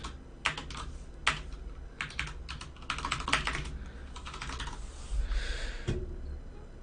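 Someone types a command line on a computer keyboard, a close run of quick key clicks in uneven bursts with a few heavier keystrokes, no voice.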